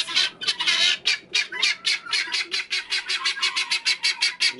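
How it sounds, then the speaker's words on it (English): Loud, rapid guinea fowl squawks in a continuous raucous chorus of repeated harsh calls, close by, with no talking. "Wow, these guineas are loud."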